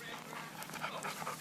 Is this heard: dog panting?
yes